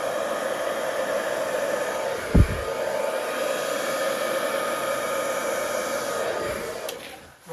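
A steady, close whoosh of air blown over an acrylic Dutch pour painting, like a hair dryer, running continuously with a couple of brief bumps and fading near the end.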